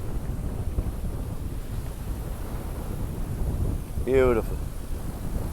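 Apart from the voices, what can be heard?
squally wind in channel between islands while sailing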